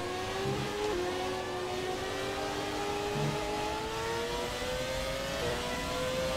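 Race car engine in the F1 2017 video game at Melbourne, a steady high whining drone with rising and shifting tones, sustained and moderately loud throughout with no voices.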